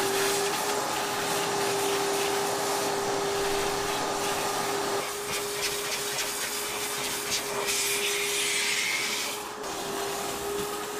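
A vacuum cleaner runs steadily inside the cab of a 1965 C10 truck, a loud continuous whine with a rushing hiss that shifts slightly as the nozzle moves over the interior.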